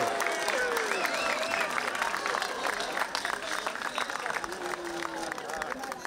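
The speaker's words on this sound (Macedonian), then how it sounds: "Дајте уште еден аплауз за нашиот кум." Audience applause for the godfather at a Christmas Eve ceremony in Skopje's cathedral, a steady dense clapping wash filling the space, with crowd murmur and voices mixed in throughout.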